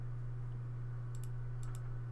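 Computer keyboard keys tap faintly in two short bursts of clicks over a steady low electrical hum, alone and without talk.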